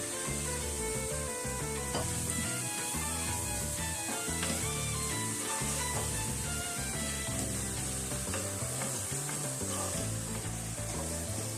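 Lentil mixture with garlic, chopped parsley, cumin, smoked paprika and salt sizzles steadily in a pan, a continuous loud frying hiss with occasional stirring scrapes throughout, no talking.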